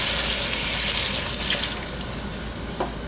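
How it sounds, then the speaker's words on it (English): Water is poured steadily into a pot of curry beef, a close, continuous splashing rush with a few brief drips near the end. "I'll top it up with some more water."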